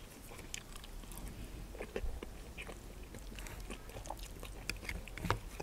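Soft close chewing and biting as people eat a Happy Yak beef stew camping meal, quiet and irregular, with no talking.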